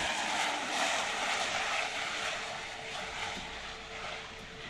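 A privately owned Harrier jet's engine roars as a steady, broad, loud rumble with a sustained whine, slowly swelling and easing over a few seconds with no talking.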